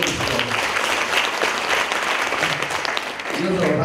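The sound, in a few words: audience applause welcoming a panelist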